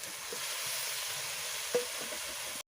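Fried potatoes go into a pan of sizzling spice paste for a drumstick and fish curry, giving a soft, steady frying hiss with a brief clink of a utensil before it cuts off.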